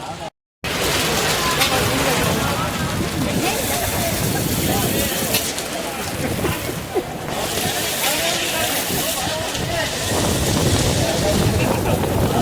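Heavy monsoon-style rain pours steadily during a trip to Ahmedabad, a dense continuous wash of noise with gusty wind buffeting the microphone, loud and close throughout, with a brief dropout at the start.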